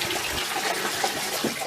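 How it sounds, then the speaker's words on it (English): Water rushes steadily into Basil's water bucket as it is topped up, a continuous close splashing gush with no pauses. "I'm just topping up Basil's water, because now he's having a water bucket"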